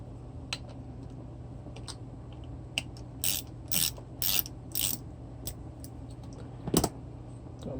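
A ratchet clicks in short, separate bursts while undoing screws thick with threadlocker on an alternator, a quiet sequence of sharp mechanical ratcheting with pauses between pulls.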